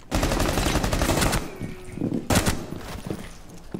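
Dense bursts of automatic gunfire in Rainbow Six Siege on the reworked Favela map, rapid overlapping shots from nearby, pausing briefly and then resuming in a second loud volley.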